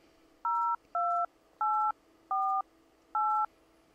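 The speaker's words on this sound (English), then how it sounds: "I'm now making a phone call." Five evenly spaced telephone keypad dialing tones, each a steady dual-pitch beep lasting about a third of a second, sound clearly and close up over a faint hum while a call is placed through Zoom Phone.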